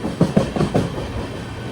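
The Amrit Bharat Express, heard from a sleeper class coach on the Nagercoil to Mangaluru run, clatters over rail joints in a quick cluster of rhythmic knocks above a steady rolling rumble.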